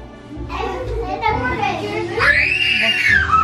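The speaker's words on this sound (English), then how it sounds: "You cannot scream like that, dude." A young child lets out a rising, piercing scream during a family vacation at Great Wolf Lodge, loud and close over a noisy mix of children's chatter and play.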